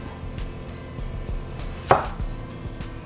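A knife slices peeled apples into small pieces, giving soft repeated cuts against a board with one sharper, louder chop, close and quiet.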